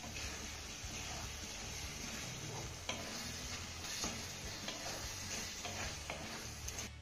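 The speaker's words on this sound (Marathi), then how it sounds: "त्यानंतर ही भाजी आपल्याला एकदा तळापासून चांगली हलवून घ्यायची आहे।" Cluster bean khima is stirred from the bottom of a pan, with a continuous soft sizzle and scattered ticks and scrapes of the spatula against the metal.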